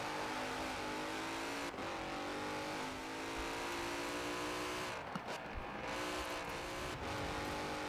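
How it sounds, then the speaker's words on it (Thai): Mercedes-AMG GT 4-door with its stock engine in Forza Horizon 4, a steady sustained engine drone with rising and falling pitch as the car accelerates and shifts, loud and continuous with brief dips. "ผมชอบเสียงเครื่องนะ เครื่องที่ผมใช้นี่เป็นเครื่องเดิมๆเลย"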